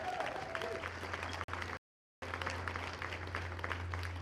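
Church congregation applauding, a dense, moderately distant patter of many hands with a low hum beneath, briefly cut to silence midway before the clapping resumes.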